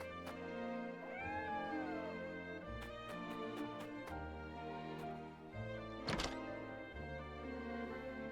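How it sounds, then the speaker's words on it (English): A cat meows in a strategy video game, with drawn-out meows near the start over steady background music, followed by a few sharp thunks and a brief clattering burst later on. "Kitty!"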